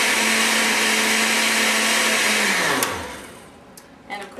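A blender whirs loudly and steadily, then its motor winds down and stops, leaving a few faint clinks and rustles.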